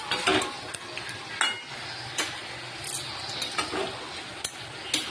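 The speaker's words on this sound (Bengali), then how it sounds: "সুন্দর করে ভালো করে কষিয়ে নিতে হবে যতক্ষণ না চারিদিকে তেল ছাড়ছে" Chicken curry masala being sautéed in a pan, with a low frying hiss beneath repeated clinks and scrapes of a metal spatula against the pan, close and fairly loud, no talking.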